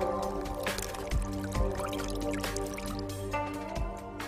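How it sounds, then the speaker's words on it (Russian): Dried porcini mushrooms dropped into boiling water, giving several distinct plops and drips over a bubbling liquid bed, each splash close and clear with no talking. "Бросьте их в кипящую воду, чтобы они разбухли."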